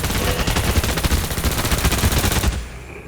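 Rapid pistol fire rattles through a Call of Duty Mobile zombies round, a dense run of close, evenly spaced shots that stops abruptly near the end, leaving quieter game ambience.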